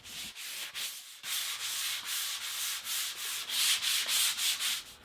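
Hand sanding works over dried joint compound filler and primer in a steady back-and-forth rhythm of rough, hissing strokes, close and continuous after a brief pause near the start.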